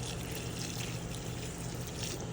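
Water mixed with 0-15-15 phosphorus and potassium fertilizer is poured onto pepper plants, giving a steady soft splashing trickle throughout.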